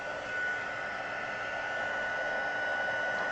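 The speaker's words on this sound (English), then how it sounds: "you'll want to use your heat tool on the top and on the bottom" Heat tool blowing hot air to dry a paper card, a steady close whooshing hiss held evenly throughout with no talk.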